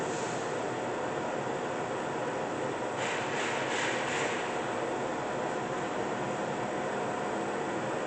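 Omega manual/CNC lathe with Fagor controls running at 100 RPM, producing a steady, even broadband whir throughout, with a brief faint rise in hiss midway.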